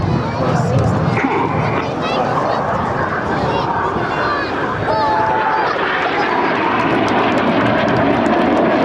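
Red Arrows jets performing a flying display at the Clacton-on-Sea air show in Essex, a loud continuous engine roar with crowd noise mixed in.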